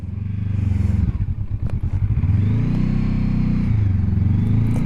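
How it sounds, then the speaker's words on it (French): Honda CL500 twin-cylinder motorcycle engine idling steadily up close with a deep low throb, briefly blipped mid-clip, then settling back to a rumbling idle with no talk. "Le bicylindre s'ébroue. Le son est assez sympa en gras."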